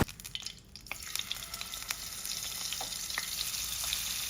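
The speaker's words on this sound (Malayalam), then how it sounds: "ഇത് ഡീപ്പ് ഫ്രൈ ആയിട്ടല്ല പൊരിച്ചെടുക്കുന്നത്, ജസ്റ്റ് ഷാലോ ഫ്രൈ ആയിട്ട് എടുക്കുന്നതാണ്" An egg-coated snack shallow-fried in coconut oil in a pan, crackling and sizzling steadily with scattered sharp pops and spits, fairly close and unbroken by speech.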